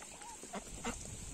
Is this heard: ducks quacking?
yes